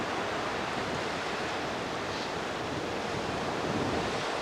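Strong wind blows steadily at a Florida beach with surf rolling underneath, a loud broadband rush that fills the whole stretch without pause and with no voices.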